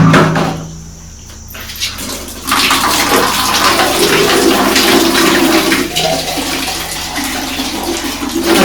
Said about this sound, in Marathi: सर्व एकदम पाणी असं मारून घेऊया